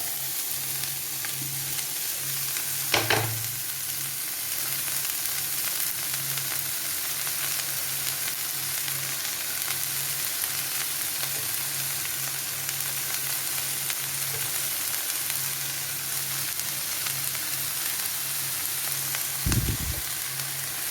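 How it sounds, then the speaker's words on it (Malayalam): Chopped beans frying in a pan with a chilli and chilli flakes, a continuous close sizzle lasting throughout with a couple of louder stirring knocks, no talk. "ഇനി നമുക്കിതിലേക്ക് അരിഞ്ഞു വച്ചിരിക്കുന്ന ബീൻസ് ഇട്ട് കൊടുക്കാം"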